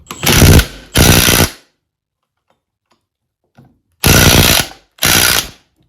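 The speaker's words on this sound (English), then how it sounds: "I want to make sure that that is properly on before I start hitting this with the impact driver" Impact driver hammering at the tie rods of a 1960 Bolens Ride-a-matic front axle, two loud rattling bursts, a pause of near silence, then two more bursts, close up with no talking.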